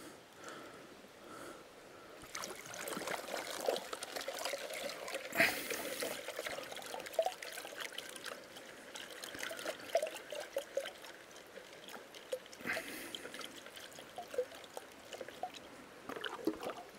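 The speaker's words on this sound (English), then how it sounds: "So I'm going to be panning all of my tailings here to see if I missed any gold." Water trickles and sloshes steadily as mine tailings are swirled in a gold pan during prospecting, a continuous close liquid wash with brief splashy surges and no talking.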